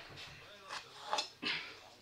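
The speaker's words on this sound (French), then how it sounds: "Donc là, nous allons couper les queues." A kitchen knife trims the stems off vegetables on a cutting board: a few short, crisp chopping clicks spaced irregularly, close and fairly quiet, with no talking.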